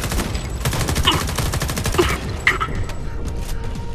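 In the video game Homefront The Revolution, enemies fire guns in dense, rapid bursts of automatic gunfire with scattered sharper shots over a few seconds.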